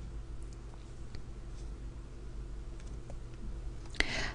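A single quiet mouse click sounds near the end, closing a dialog in a spreadsheet program, over a steady low electrical hum with faint scattered ticks before it.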